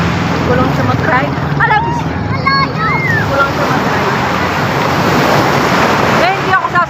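Strong ocean surf at Patar Beach in Bolinao, a continuous roaring wash of breaking waves with wind buffeting the microphone, while a person talks over the crashing water for much of the stretch.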